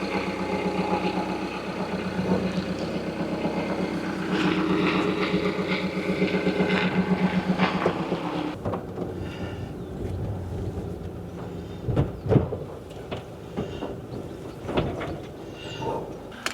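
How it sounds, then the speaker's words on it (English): A motorhome's engine runs steadily with a low droning hum while the vehicle reverses out of a parking spot in France; the drone drops away after about eight seconds, leaving quieter mechanical clunks and knocks. "I'm going to reverse out of here and get down to that service point"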